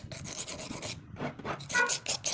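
A leather skiving knife being sharpened, giving steady close rasping strokes back and forth with short pauses between passes, no voices.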